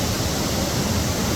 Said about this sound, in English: waterfall in a beautiful spot in the middle of the rainforest here.